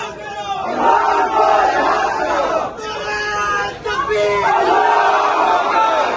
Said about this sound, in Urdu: قیدی نمبر 804 کے نعرے لگ رہے ہیں